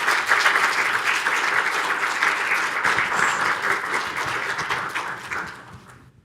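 A lecture audience breaks into steady, full applause to welcome a speaker. The clapping from many hands stays dense and even for several seconds, then thins out and fades away near the end.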